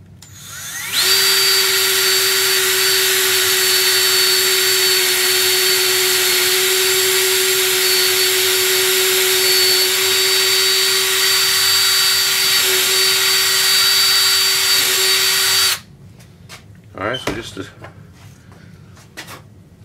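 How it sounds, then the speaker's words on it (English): A power drill bores into a support bracket for a homemade portable LED shop light, giving one steady, loud, continuous whine for about fifteen seconds before cutting off, followed by a few brief handling clatters. "So let's get this first one drilled."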